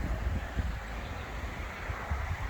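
Strong gusting wind buffets the microphone outdoors at a beekeeper's worksite, giving a steady rumbling roar with low thumps, loud and alone without speech.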